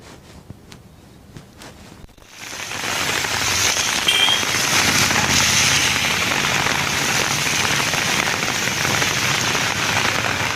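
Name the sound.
heavy rain falling in Hyderabad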